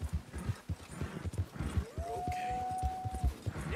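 An agitated horse in the snowy region of Red Dead Redemption 2 lets out a long drawn neigh over a steady run of hoof clops, close and fairly loud.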